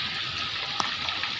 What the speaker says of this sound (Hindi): इतनी तेज़ बारिश हो रही है यहाँ छत पे